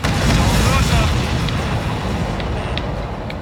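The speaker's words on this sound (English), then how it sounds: "Did you see that explosion?" A heavy in-game explosion booms in Ace Combat 7 aerial combat, a dense roaring blast that swells and slowly decays into a sustained rumble, with faint radio chatter underneath.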